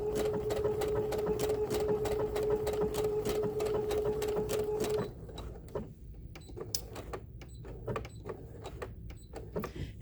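Sewing machine stitching a blossom wall hanging quilt, running in a steady fast hum with rapid needle taps, then slowing into slower separate stitches and clicks, close by.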